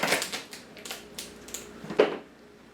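A blue crab is cut in half with a knife, giving a rapid series of sharp cracking crunches, close and fairly loud, the firmest snap near the end.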